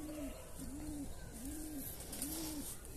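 A Taiwan Somibat pigeon hen coos in a steady repeating rhythm, four rounded low calls evenly spaced over a soft background hiss, close and clear.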